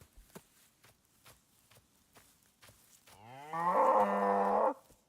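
Cow in the Rising World video game gives one long, loud, close moo near the end, after a string of soft, evenly spaced footsteps.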